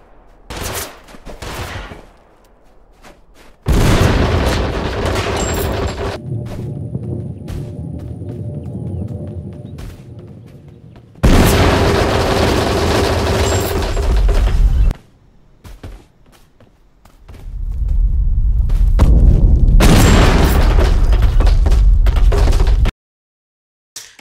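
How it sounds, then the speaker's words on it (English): Grenade explosions in the game Totally Accurate Battlegrounds, a bouncing grenade setting off blasts on each surface: long loud roaring bursts of rapid booms in three separate stretches, broken by short quieter gaps. "Every surface it bounces off of makes an explosion"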